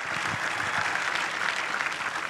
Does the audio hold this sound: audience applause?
yes